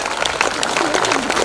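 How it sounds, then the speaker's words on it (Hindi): A crowd at a district gathering applauds for women guests who travelled far, a continuous busy clatter of hands with a voice talking faintly over it. "जोरदार तालियां इन महिलाओं के लिए जो इतनी दूर से आए हैं"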